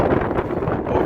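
Strong wind buffeting a microphone on a Rocky Mountain summit near Hallett Peak, a loud continuous low roar and rumble with no voices.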